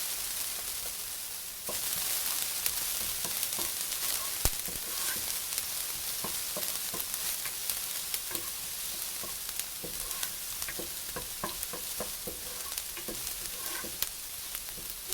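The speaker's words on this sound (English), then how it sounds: "I'm just going to go ahead and saute the minced ginger until fragrant" Minced ginger sautés in a soup pot with a soft, continuous hiss that swells after a quiet start, dotted with small crackles and light stirring taps, moderately faint and without talk.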